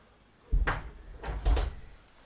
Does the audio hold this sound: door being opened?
yes